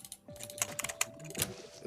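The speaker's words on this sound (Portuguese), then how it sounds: "Eu vou dar uma testada nesse teclado pequeno aqui pra jogar esse jogo." Quick bursts of key clicks on a small computer keyboard during a Crashlands game session on PC, close and soft, a rapid irregular clatter of several taps with no talk.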